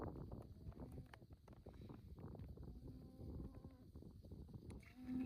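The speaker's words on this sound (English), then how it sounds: "Oh, looky here, the cattle have stopped moving." Cattle on a southwest Nebraska ranch, a herd lowing in the distance, with low, overlapping moos and grumbles spread through the clip over a faint outdoor background, no speech.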